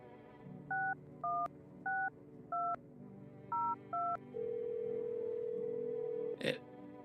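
Telephone keypad dialing in a video game: six short, evenly spaced touch-tone beeps, then a longer steady tone that ends in a brief click.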